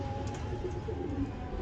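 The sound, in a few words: pigeons cooing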